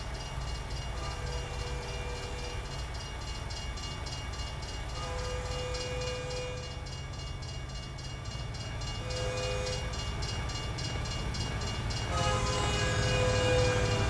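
A train rumbles by in the American Truck Simulator driving game, with a continuous low rolling drone and sustained horn-like tones that come and go, growing slightly louder toward the end, with no talking.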